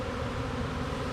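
Honeybees crowded into a cell starter box, mostly flightless nurse bees crawling over one another, give off a close, dense, unbroken hum that holds level throughout the brief moment.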